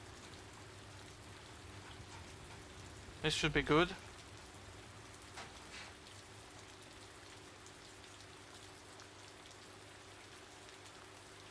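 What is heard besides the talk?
rain in video game Central Europe Drive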